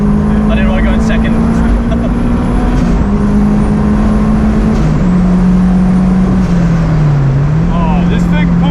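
A turbocharged Honda S2000 pulls hard under acceleration, a steady loud engine drone holding pitch with brief dips at each gear change, heard from inside the car.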